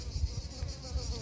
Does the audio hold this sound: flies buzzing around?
yes